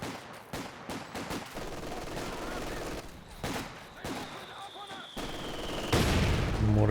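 A mortar team firing in the World War II strategy game Company of Heroes 2, amid a busy battle of repeated gunfire bursts and thuds, with a louder blast near the end and a voice speaking underneath.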